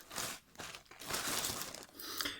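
Black plastic bag packaging from an AliExpress order containing a coffee cup, crinkling and rustling in close, irregular bursts over a couple of seconds with brief pauses between handlings.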